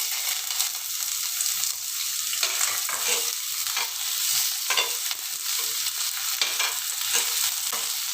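Garlic and ginger sizzle steadily in a hot pan for Filipino milkfish sinigang, a close, continuous crackling frying sound with soft stirring throughout and no talking.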